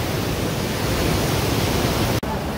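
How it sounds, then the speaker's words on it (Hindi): Water of the Sundarijal stream rushes in a steady, loud, dense wash that never lets up. It is close by, with no voices over it. "यहाँ हेर्नु यो पानी त सुन्दरी जलको पानी हो यो।"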